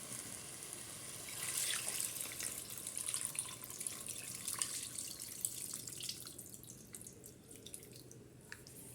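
A soft, steady trickle of tamarind water being poured while making fish curry, quiet and close, with faint splashes and drips throughout.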